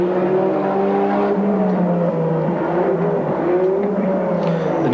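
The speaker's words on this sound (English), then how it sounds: "The Nissan GT-R is certainly the technical package to beat." Twin-turbo 2.5-litre six-cylinder Nissan R32 GT-R race car at Bathurst in 1991, its engine droning steadily with shifting harmonic tones throughout, loud and close, with no talk over it.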